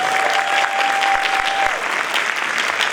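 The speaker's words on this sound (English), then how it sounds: "Can we give another round of applause to our conductors?" Loud, dense clapping from a school winter band concert audience honours the conductors, a steady ovation with a faint whistle-like tone riding over it early on.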